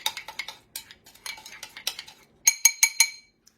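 A utensil clinks and scrapes against a bowl while minced garlic, salt and black pepper are mixed, giving a quick run of light taps that ends in four sharper, ringing clinks.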